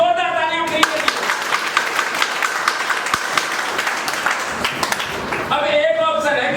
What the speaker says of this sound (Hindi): एक बार जोरदार तालियां फ्री कर दीजिए।